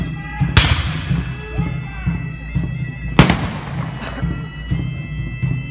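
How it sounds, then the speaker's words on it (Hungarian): Two loud booming cannon blasts, each ringing out and fading, with scattered lesser thumps and commotion between them, at a reenactment of the 1566 Siege of Szigetvár. "Süsd el az ágyút!"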